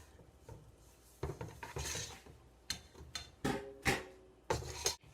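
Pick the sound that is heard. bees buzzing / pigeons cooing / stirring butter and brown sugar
stirring butter and brown sugar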